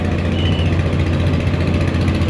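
A trawler boat engine runs at a river launch ghat near Barisal, a steady low throbbing drone with a constant rumble and no breaks.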